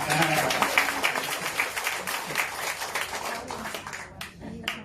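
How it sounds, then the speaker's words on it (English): An audience in a Penang YMCA hall claps at a health talk on laser therapy, a dense stretch of overlapping handclaps lasting several seconds under a speaker's voice, thinning toward the end. "Hey, clap hand lah, clap hand."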